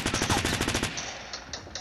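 Rapid automatic gunfire from a gun in the video game Fortnite, a fast stuttering burst of about a dozen shots lasting under a second, followed by a few fainter, spaced shots.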